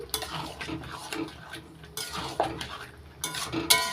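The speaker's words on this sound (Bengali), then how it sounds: "এবার খুন্তি দিয়ে ভালো করে মিশিয়ে নিচ্ছি" A spatula scrapes and clinks in a pot of gourd and shrimp cooked with Gobindobhog rice paste, giving steady, close scraping strokes with a few sharper metallic taps.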